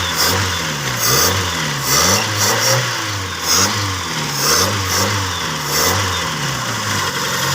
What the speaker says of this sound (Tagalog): May bara yung karburador.